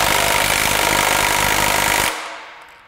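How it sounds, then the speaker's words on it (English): A power tool removing the crank pulley from a Honda K-series engine, a loud continuous rattling hammering buzz that stops abruptly near the end, leaving a fading tail. "Start by removing this crank pulley."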